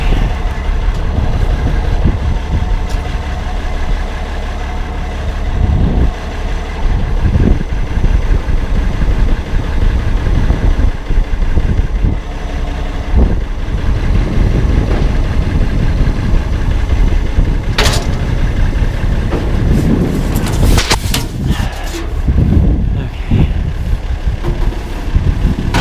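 A tractor engine idles steadily while pulling a blower, a loud, continuous low rumble throughout with a few brief clanks and rattles near the end.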